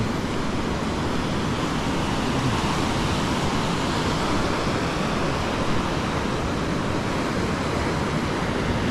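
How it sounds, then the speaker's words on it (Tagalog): Strong ocean surf pounds a shore in a steady, loud, unbroken roar of breaking waves, with no voices over it. "Ang lakas ng alon."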